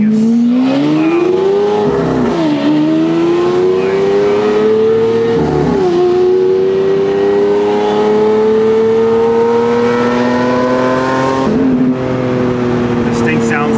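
Lamborghini Aventador SV with an upgraded exhaust, heard from inside the car as a loud, sustained engine drone that rises steadily through long pulls with brief dips between gear changes.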